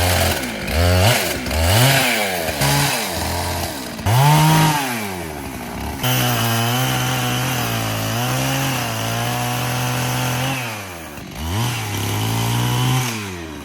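A chainsaw cuts the limbs off felled trees while firewood is being cut, its engine revving up and bogging down in repeated strokes before settling into a steady, loud drone close by.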